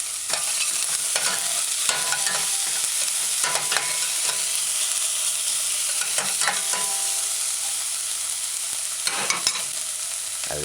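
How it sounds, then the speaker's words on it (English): Garlic and seasonings sauté in a saucepan for an asparagus coconut stew, a steady close sizzle and frying hiss broken by several sharp scraping stirs of a spoon against the pan. "Allow it to saute"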